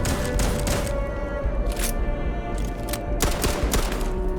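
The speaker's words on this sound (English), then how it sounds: "that gun in particular is so fun to shoot" Gunfire from a gun in the video game Starfield, loud rapid shots in bursts over a dense, constant game soundscape.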